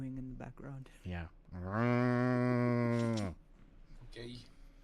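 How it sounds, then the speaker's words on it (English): A cow gives one long, loud moo lasting over a second, set between short bursts of nearby human talk. "Ben mooing in the background"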